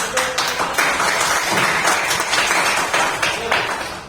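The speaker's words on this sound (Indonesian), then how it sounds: "Betul sekali, tepuk tangan." Applause in an Indonesian classroom during a teaching-practice lesson: a short burst of clapping from a group of students, fairly close and steady for a few seconds, with no clear talk over it.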